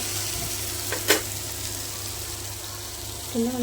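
Masala sizzles steadily in hot oil for a milk shark fish curry, a soft continuous frying hiss with a couple of brief knocks from the pan.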